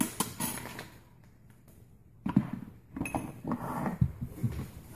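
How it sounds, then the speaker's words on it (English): Sugar spills and scatters across a table in a kitchen, a few soft gritty rattling bursts with light clinking, close by and fairly quiet, with no one talking. "that noise in the background is me spilling some sugar on the table"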